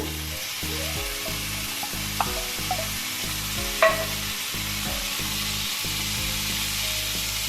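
Boiled vegetables being mixed into street-style tawa pulao on a pan, with steady sizzling and rhythmic spatula scraping and tapping, close and loud with no voices.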